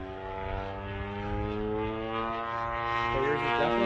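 Extreme Flight Duo 120cc twin-cylinder engine on a radio-controlled airplane, a steady, loud, harmonic propeller drone that holds for several seconds and rises slightly as the plane passes, with faint voices in the background.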